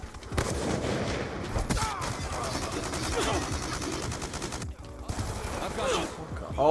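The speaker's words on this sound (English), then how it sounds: "he's shooting through a wall" Gunfire from Black Ops 2 multiplayer, rapid bursts of automatic shots rattling in quick succession with brief pauses, loud and close amid busy game noise.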